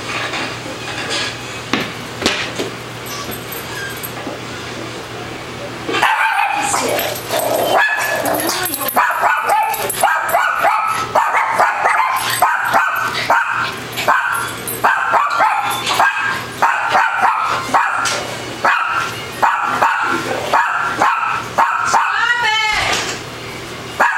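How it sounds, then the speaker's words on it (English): A dog barking repeatedly in quick, sharp bursts indoors, loud and close, with a few whimpers mixed in and some clattering in the background. "What are you barking"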